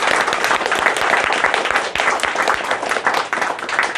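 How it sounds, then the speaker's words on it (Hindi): Audience applause fills a seminar hall, a dense, steady wash of many hands clapping together throughout, loud and close with no pause. "एक बार थोड़ी सी तालियां हो जाए एनर्जाइज करने के लिए"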